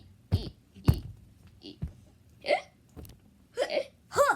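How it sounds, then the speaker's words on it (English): Repeated hiccups from a cartoon-style character, about eight sharp gulping bursts at uneven intervals, close and fairly loud, with no talking. "I got the hiccups. No, I have the hiccups."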